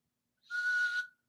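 One short whistled note from a person, a steady clear tone lasting about half a second, close and moderately loud against silence.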